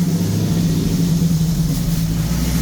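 A UTV fitted with an LSA V8 engine, the supercharged Cadillac CTS-V motor, rumbles steadily as it pulls away toward the Glamis sand dunes, a deep continuous engine drone with no talking.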